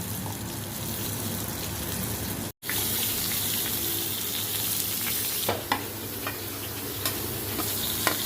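Pieces of pointed gourd frying in a pan give a steady, dense sizzle that cuts out for a split second, then resumes with a few sharp pops and crackles; no one speaks.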